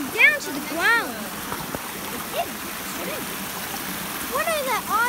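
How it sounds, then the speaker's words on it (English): A fast-flowing river on a hiking trail rushes as a steady broadband roar throughout, with voices talking and calling over it. "Look how fast that river's going, guys."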